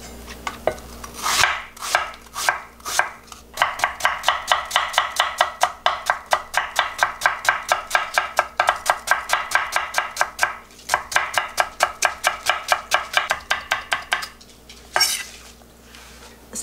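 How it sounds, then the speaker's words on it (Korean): Apples cut into thin strips with a knife on a board: rapid, steady chopping taps, close and crisp, in fast runs with a few short pauses, no voices. "채를 썰어서 하는 게 제일 좋더라고요."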